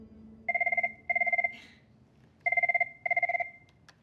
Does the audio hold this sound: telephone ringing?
yes